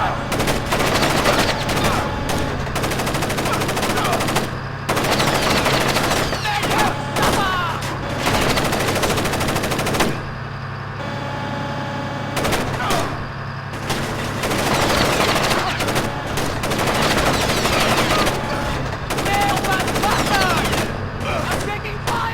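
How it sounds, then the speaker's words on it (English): An enemy shooter's gunfire crackles in Splinter Cell: Chaos Theory as loud, rapid automatic bursts, repeated with short gaps over the whole stretch. "I'm taking fire! He's taking shots now!"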